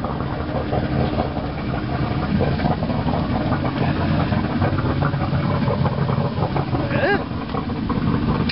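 A small boat engine idles steadily at close range, a continuous low rumbling drone with a faint chirp partway through.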